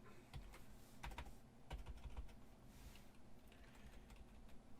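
Quiet, close keyboard typing while a web page's color code is re-entered, with irregular clusters of soft key clicks over a low steady hum and no talk.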